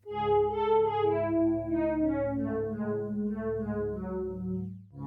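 Sustained chorus pad from an Arturia DX7 synth with two-voice unison detuned around 21.6, playing slow, held, shimmering chords with a gentle wavering and soft attack, clean and alone.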